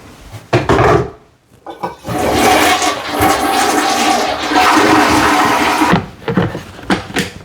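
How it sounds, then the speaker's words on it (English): Dirty water pours into a toilet bowl in one loud, sustained splashing rush lasting several seconds, framed by a few short knocks and clatters before and after. "And then I take the dirty water, which is absolutely disgusting, by the way, and put that straight down into the toilet."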